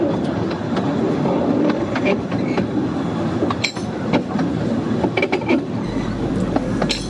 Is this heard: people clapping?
no